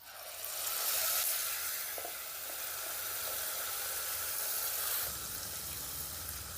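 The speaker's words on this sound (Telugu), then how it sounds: "ఇప్పుడు స్టవ్ని సిమ్లో పెట్టుకొని ఇలా మెల్లిగా కలుపుకుంటూ ఆయిల్ అంతా పైకి వచ్చేంత వరకు ఫ్రై చేసుకుందాం" Spice paste frying in hot oil on a low flame with cloves, cardamom and peppercorns, giving a steady, close hiss and sizzle with a brief louder stir near the end and no talking.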